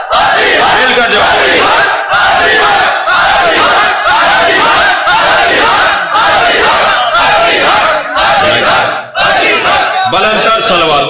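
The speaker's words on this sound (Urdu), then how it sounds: "بلندر صلوات پڑھیں گے۔" A large crowd at a religious gathering loudly recites salawat in unison, the chant rising and falling in rhythmic bursts with short pauses between phrases.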